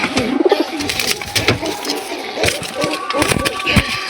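Pigeons coo softly and repeatedly nearby, with scattered wing flaps and pecking knocks and a voice faintly in the background.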